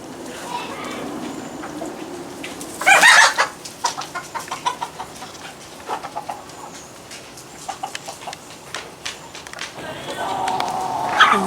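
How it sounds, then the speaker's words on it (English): On a farm, roosters and hens give a sudden loud squawking burst, followed by a run of short, repeated clucks close by, with people talking now and then in the background. "A rooster."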